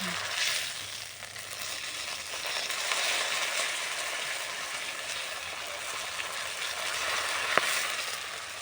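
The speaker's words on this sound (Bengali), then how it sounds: "লেজাটা ভাজা হচ্ছে," Fish pieces frying in hot oil for a Bengali fish curry, a loud, continuous dense sizzle with one brief click near the end.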